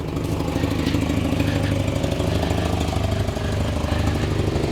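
A 1985 Volvo 245 parts car idles steadily with exhaust leaks and a dented muffler, giving a continuous rough, rumbling drone with no talk over it.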